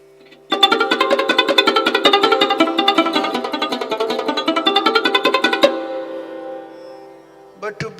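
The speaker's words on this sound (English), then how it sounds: "But if I play sarod with fingertip, it will sound like this." A sarod plucked with the fingertip plays a fast run of evenly spaced notes, each with a short, muted decay, then fades out with a brief afterthought.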